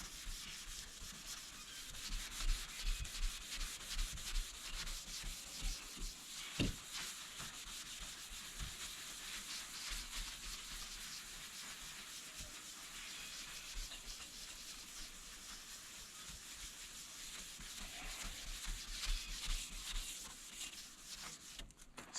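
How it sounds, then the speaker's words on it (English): Scrubbing wet paint on a 1979 Chevy Suburban: a brush rubs back and forth in repeated raspy strokes, steady and close throughout, with occasional knocks, no talking. "we'll just run over it, scrub a little bit back and forth"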